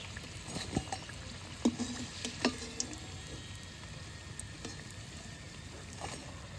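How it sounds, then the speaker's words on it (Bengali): Egg and potato rolls frying in hot oil and being lifted out to drain, giving a faint continuous sizzle with a few clinks and scrapes of a utensil against the pan. "এগুলো ভাজা হয়ে গেছে, এখন তেল ঝরিয়ে উঠিয়ে নিচ্ছি।"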